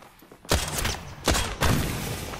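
Gunfire in the Apex Legends video game comes in three sharp bursts of rapid shots, loud and close, each decaying into a ringing tail, with no talk.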